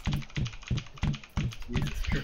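Fingers typing on a computer keyboard in quick bursts of sharp clacks, close and fairly quiet, with irregular pauses between keystroke clusters.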